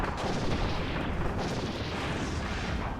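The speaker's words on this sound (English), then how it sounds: "I don't think I've ever realized you bring the cannon in here" A cannon firing during a boss fight in the video game Kirby's Return to Dreamland DX, heard as a dense, continuous booming roar with no pauses and no talking.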